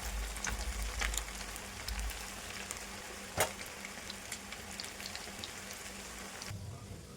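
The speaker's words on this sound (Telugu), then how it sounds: "కొంచెం మీడియం ఫ్లేమ్లోనే పెట్టి ఫ్రై చేసుకుంటే మంచిగా ఫ్రై అవుతుందండి" Kandana kaya pakodi fry in oil on a medium flame, giving a soft, continuous crackling sizzle with a sharper pop partway through, fairly quiet and steady with no voices.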